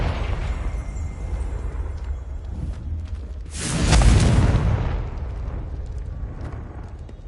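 A Confringo blast spell from Hogwarts Legacy erupts as a loud, booming explosion with a rushing whoosh that swells for about a second and a half, then fades back into steady background noise.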